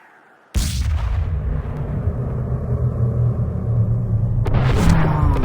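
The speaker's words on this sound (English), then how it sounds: "the cheesy gunshot sound effects" A loud sharp video game gunshot sound effect followed by a long booming rumble that keeps rolling, then a second shot near the end, heavy and close.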